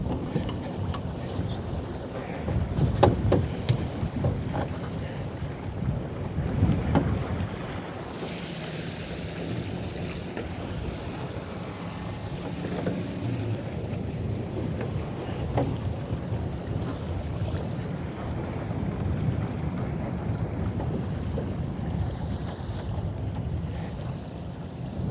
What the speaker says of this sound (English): That was a big breeze.